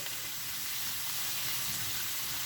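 Chicken, onion and butter sizzling steadily in a hot pan, a constant close crackling hiss with faint stirring, no voices.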